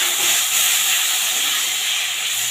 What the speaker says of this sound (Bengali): দিয়ে দিচ্ছি আদা পেঁয়াজ রসুন লঙ্কা বাটা,